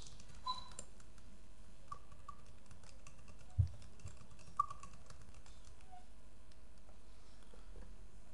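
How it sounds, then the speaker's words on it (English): Keys on a computer keyboard are tapped out in a quick, uneven string as a web address is entered into a text box, a soft close-up clatter at a low steady level with two slightly sharper clicks standing out partway through. "type in the homepage of the company in the text box"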